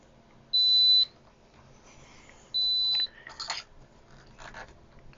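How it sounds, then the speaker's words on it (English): Two loud, steady high-pitched electronic beeps, each about half a second long, from a Sequre S99 portable soldering iron warning to check the tip, followed by light clicking and handling noises. "And it is beeping, and it says check tip."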